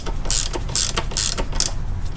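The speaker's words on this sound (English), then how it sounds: "hold it steady with the channel locks and let's see if we can get this tightened now" A nylon lock nut being tightened with channel lock pliers on a Toyota FJ80 Land Cruiser suspension, giving close, rhythmic ratcheting clicks repeated about four times in quick succession.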